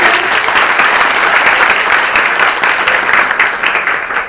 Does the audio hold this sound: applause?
yes